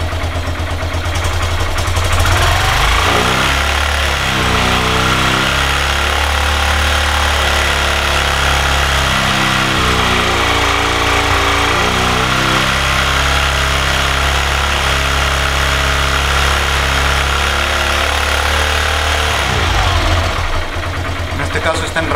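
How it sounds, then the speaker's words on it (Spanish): A motorcycle engine is held at around 4000 RPM during a charging system test, a loud, steady buzzing drone that rises smoothly at the start, holds, and settles back down near the end. "Encendemos la moto y la ponemos a unas 4000 RPM."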